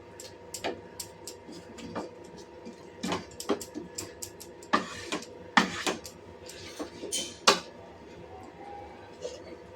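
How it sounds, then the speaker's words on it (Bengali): Chicken being stirred with almond paste in a pan, a series of sharp utensil scrapes and clicks against the pan over a low steady cooking hiss, close and fairly loud. "বাদামের পেস্টটা দিয়ে ভালো করে নাড়াচাড়া করে নেব।"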